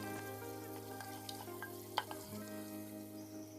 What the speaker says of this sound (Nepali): अब फेरि पनि हाई फ्लेममा प्याजमा मिठो गोल्डन ब्राउन कलर आउने गरी फ्राई गर्ने